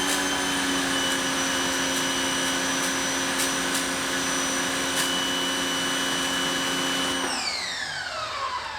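Westinghouse EPX3050 electric pressure washer (2050 psi, 1.76 gpm) running steadily and loudly up close with a high-pitched motor whine, then winding down near the end.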